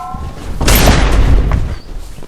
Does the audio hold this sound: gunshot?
yes